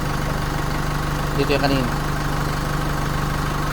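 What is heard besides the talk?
Chevrolet Trailblazer engine running at idle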